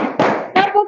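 A classroom of students claps hands together in a counted rhythm, three loud, close bursts of clapping separated by short pauses.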